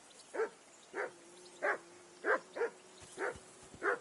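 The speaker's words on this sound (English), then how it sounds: "Jesus, Henry, that barking's driving me nuts." A dog barks repeatedly in Kingdom Come Deliverance 2, seven sharp, moderately loud barks at uneven intervals over a low steady hum, with no one talking.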